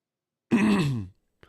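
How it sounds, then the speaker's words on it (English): A man coughs once: a single rough, voiced burst lasting about half a second, close and fairly loud, followed by a short faint sound. "Sorry, I'm coughing."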